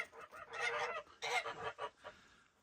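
Turkeys on a snowy farm give a few close, loud gobbling calls in short bursts, with pauses between them.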